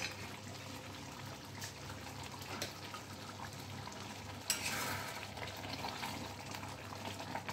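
Butter sizzling in a pan of dahi paneer, a close, steady frying crackle with stirring scrapes throughout and a brief louder burst midway.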